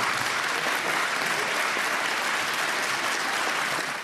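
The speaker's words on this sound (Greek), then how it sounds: "Με ένα παρατεταμένο χειροκρότημα και πολλά χαμόγελα αποτυπωμένα σε selfies γίνεται δεκτό το αποτέλεσμα της ψηφοφορίας" Prolonged, dense applause fills a parliament chamber after a vote passing same-sex civil marriage into law, a steady, loud wash of many hands clapping that continues without a break from start to finish.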